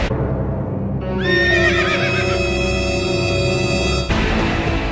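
At a crowded Japan Expo 2014 convention in France, a man dressed as a pony neighs loudly, imitating a horse with a long wavering whinny over steady crowd murmur.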